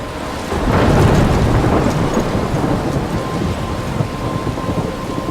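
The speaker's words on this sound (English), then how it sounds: "I'm trapped in a storm?" A thunderstorm in the video game Life is Strange: heavy, continuous rain with a rolling rumble of thunder swelling early, then steady downpour, loud and close, with no voices.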